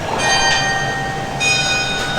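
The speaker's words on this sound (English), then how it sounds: "The clock tower is clearly chiming that it's 6 o'clock." A clock tower bell in Singapore rings the hour, its bright metallic tones ringing out over a busy, noisy outdoor backdrop that sounds like passing rail traffic.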